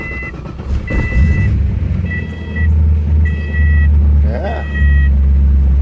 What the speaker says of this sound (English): I'm gonna crank it up now, see if it does crank